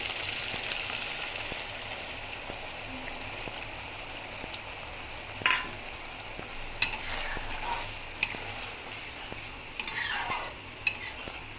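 A splash of water going into well-fried masala for chhana potol sets off a steady close sizzle with stirring scrapes, punctuated by several louder bursts of spitting and hissing as the liquid hits the hot pan.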